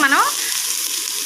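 Ginger-garlic paste fries in a pan, making a loud, close, continuous sizzling hiss that follows a brief tonal squeal at the very start.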